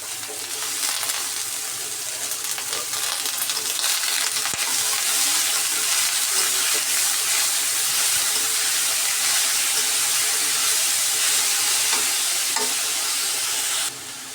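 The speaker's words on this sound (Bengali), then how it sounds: "এখন নেড়ে চেড়ে ভালোভাবে ভেজে নেব শাকটা।" Leafy greens with raw onion and green chilli fry in a pan, giving a steady, close, broadband sizzle that holds for most of the stretch with faint stirring scrapes, and no speech.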